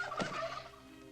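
A fat domestic turkey gives a single quick gobble, a short warbling burst up close, then fades into quiet background.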